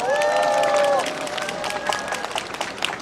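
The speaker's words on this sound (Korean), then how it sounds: "박수 한번 쳐주십시오" A voice briefly rings out, then a crowd at an outdoor election campaign speech gives scattered, fairly faint applause.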